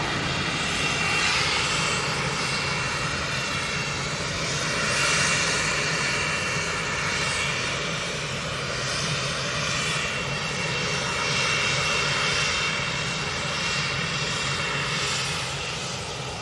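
Passenger jets roar steadily at Manchester Airport, including a Ryanair 737 Max, an EasyJet and a Jet2 737-800. The broad engine noise is loud and continuous, swells slightly, and no one speaks.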